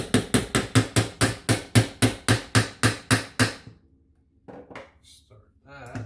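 A hammer taps a part into a CZ Scorpion pistol: about fifteen sharp, evenly spaced metallic strikes at close range, then a pause followed by a few softer handling clicks and knocks.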